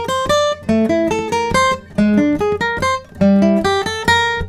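Guitar picks the Westworld theme lick an octave higher, bright plucked notes ringing in a quick repeating pattern over a low droning bass, close up and unaccompanied by speech.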